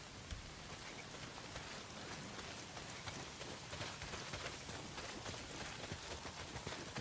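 Steady rain pours in a video game, a dense continuous hiss with fine patter and scattered drop ticks, unbroken and even in level throughout.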